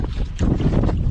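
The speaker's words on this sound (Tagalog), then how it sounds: "lakas ng hangin" Strong wind at sea roaring across a microphone on a fishing boat, a loud continuous broadband rush with gusting swells and faint water wash beneath, no voices.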